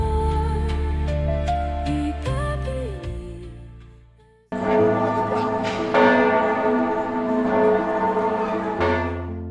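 A large bell tolls in rich, ringing strikes with long humming decays, several hits early, then a fading pause and a louder, sustained peal that lingers before cutting off.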